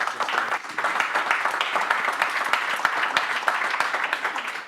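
A Talks at Google audience breaks into steady applause, dense overlapping claps filling the room at moderate loudness and holding evenly from start to finish without fading.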